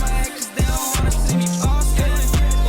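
Punchy drums from a hip-hop style song pound out a steady, loud pattern with heavy kicks and crisp hits over other music, no talking.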